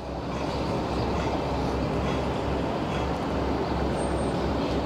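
A metro train on the Orange Line rumbles into the last stop of the line. It makes a steady, dense low roar that stays even throughout, with no voices over it.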